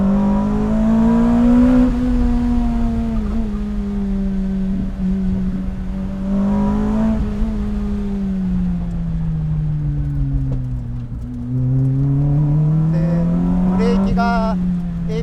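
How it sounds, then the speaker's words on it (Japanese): A Lotus Elise R engine, which revs to about 8500 rpm, drones loudly from inside the car, its pitch climbing and falling repeatedly through gear changes as it revs high. "マキシマムがね8000まで回るんだよね、このエンジン。"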